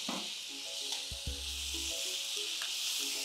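Tomato pieces added to a sizzling pan of uggani with fried potato pieces, giving a steady close hiss with a few soft stirring knocks and brief tonal scrapes from a utensil.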